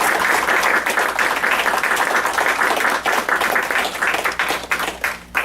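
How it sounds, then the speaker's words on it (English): Loud, close applause from a gathered audience at a martial arts ceremony honoring new second-degree black belts, many hands clapping steadily for several seconds before starting to thin out at the end. "Big round of applause."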